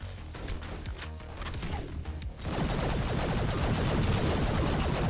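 Rapid gunfire from the fast-paced shooter GTTOD: Get To The Orange Door, with sharp repeated shots at first, then a dense, continuous rattling barrage that grows louder and more sustained.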